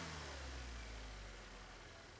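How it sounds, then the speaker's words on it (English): A Chevy Equinox engine rises under raised throttle, heard as a faint, steady, low-pitched mechanical drone that hangs on evenly and slowly eases off, with no voices over it. "Here, we're going to rev up the throttle"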